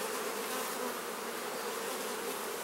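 Honey bees fill an open hive with a dense, steady buzz, close and even throughout with no voices.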